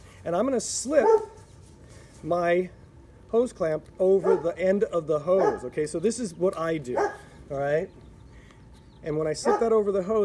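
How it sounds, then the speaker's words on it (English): A neighbor's dog barks and yips outdoors in a backyard while someone talks through replacing a pool backwash hose, the short barks scattered beneath and between his steady speech. "Oh, now the neighbor's dog's out and he's going to greet me."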